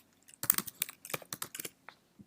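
Quick bursts of typing on a computer keyboard while writing Python code, a close, crisp cluster of key clicks with short pauses and a few isolated taps near the end.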